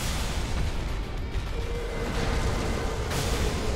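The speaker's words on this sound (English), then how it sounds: "Ooh, explosions." Spell explosions in a Dark Souls game rumble and crackle as a dense, continuous wash of booming bursts, loud and sustained with no speech.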